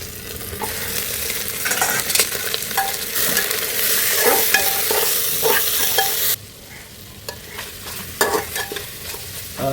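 Mutton frying and being stirred in a pan until brown for Manipuri mutton thongba, a steady close sizzle with repeated scraping stirs throughout, dropping slightly quieter partway through; no talking.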